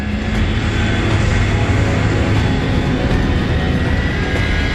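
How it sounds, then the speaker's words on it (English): Loud, continuous roar of a Vulcan bomber's jet engines starting and running, broad and steady throughout, heard fairly close with no speech. "it was the first Vulcan starting"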